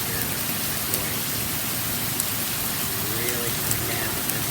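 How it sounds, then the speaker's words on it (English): Steady rain pours down outdoors, a dense continuous hiss with scattered drops tapping nearby surfaces and a faint voice under it. "Probably hear the rain."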